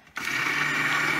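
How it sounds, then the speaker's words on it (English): A hand stick blender mixing homemade soap in a pot starts abruptly and then runs as a steady, loud motor whir with a bright, even buzz. It keeps going alone with no talk. "And I have a hand stick blender. And I'm gonna get this going in my pot."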